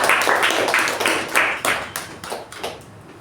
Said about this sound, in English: With a huge round of applause, please welcome the Toastmaster of the day